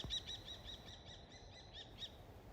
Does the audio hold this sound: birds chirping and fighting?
yes